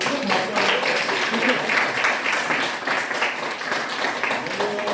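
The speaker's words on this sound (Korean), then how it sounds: "박수 한번 나눠주시고요." A church youth group gathering breaks into applause after a prayer, a continuous mass of clapping at moderate level that carries on evenly from start to finish.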